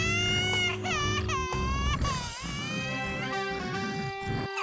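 A cartoon baby cries loudly in rising, wavering wails with short sobbing breaks, continuous and close, over a steady musical background.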